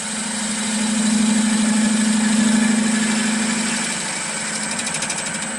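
A wood lathe spins a baseball bat blank while a bowl gouge cuts, giving a steady motor hum with a sustained low drone and a bright hiss. The sound holds evenly for several seconds, then eases slightly toward the end. No one speaks.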